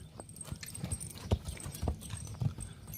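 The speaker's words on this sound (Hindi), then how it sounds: "अभी ये हो गया है नर घोड़ा" Five-year-old male Nukra horse in a show ring: soft, uneven clip-clop of hooves at a moderate distance, faint against background noise.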